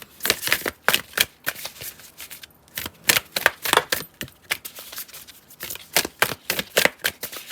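Tarot cards shuffled by hand in fast, crisp riffles and slaps that repeat steadily and close by, with brief pauses between bursts.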